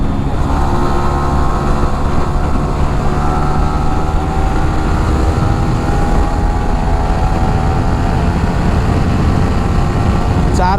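Yamaha R15 v3 motorcycle with a modified stock exhaust revving steadily and loudly up through the gears toward full RPM, a continuous dense engine roar heard close with no pauses.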